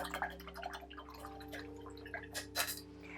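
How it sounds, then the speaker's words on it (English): An acrylic paintbrush swishes and rinses in a container of water, close and faint, with small splashy drips and light clinks against the glass over a steady low hum. "So just rinse your brush out."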